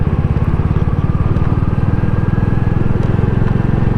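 A 2022 Royal Enfield Classic 350 single-cylinder engine thumps steadily while riding, a close, loud, continuous low putter with a fast even beat and a constant rush of wind, no talk over it.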